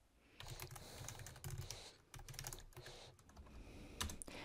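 Quick, irregular clatter of fingers typing on a computer keyboard, close and fairly quiet, with short pauses between bursts of keystrokes.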